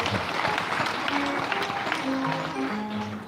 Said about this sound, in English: let us give him a hand clap for all the great work they've done